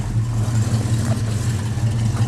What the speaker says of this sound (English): Got a nice sounding dual exhaust system with the headers. You can hear it sounds real good.